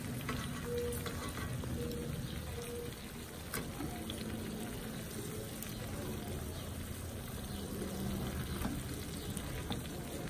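Mahi mahi fillets sizzling in a pan of caper, butter and white wine sauce, a continuous moderate crackle with occasional scrapes and stirring clinks as the fillets are turned.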